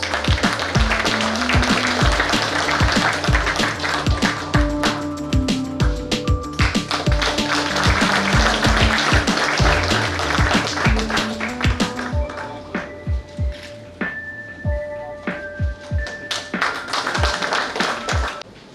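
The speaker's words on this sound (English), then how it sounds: "Give them a round of applause." Applause from an audience at a Kanachur hospital cancer department event in Mangalore, a long run of sharp, distinct claps that thins to scattered, uneven claps toward the end.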